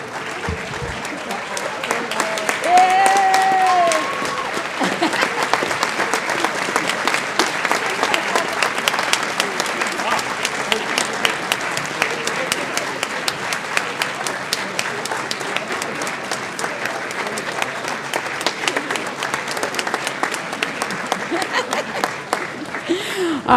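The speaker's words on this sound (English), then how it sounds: "Mr. Wright, would you at least please stand up and accept a round of applause?" Audience applause honoring Mr. Wright for his years of service, steady and sustained clapping from a sizable crowd, lasting the whole stretch with a brief voice near the start.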